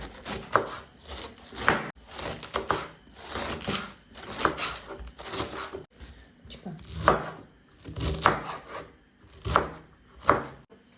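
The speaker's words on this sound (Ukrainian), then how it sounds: "Беру молоду капусту 500 грам та нарізаю її тоненькими смужками." Steady rhythmic knife chops slicing young cabbage into thin strips on a cutting board, a dozen or so crisp strokes in a row, close and moderately loud with faint background murmur.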